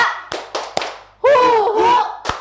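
A classroom group performing a rhythmic morning spirit clap-chant, sharp hand claps in a steady pattern broken by loud sung or shouted voices, close and lively.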